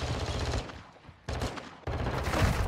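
Bursts of gunfire in a shooting video game come through as dense, loud, continuous rattling, briefly dropping off before two more sustained volleys.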